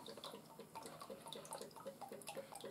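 Wood finishing oil is poured from its container onto an oval wooden bowl, giving a faint, soft, continuous trickle that stays quiet throughout.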